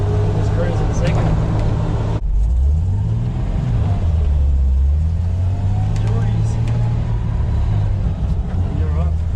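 A manual 1979 Toyota FJ45 Land Cruiser drives along with a loud, close engine drone that climbs and falls in pitch as it revs through acceleration, with some voices in the cabin.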